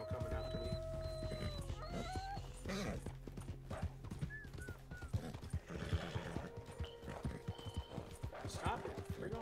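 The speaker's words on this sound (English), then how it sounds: "The freaking wolves now coming after me." In Red Dead Redemption 2, wolves howl and attack while a horse whinnies and its hooves clatter quickly throughout, with a player speaking over the game sounds.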